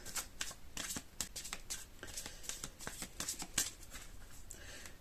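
Playing cards shuffled and handled from a deck in a card-magic setting, a quick run of soft, crisp snaps and flutters, close and quiet.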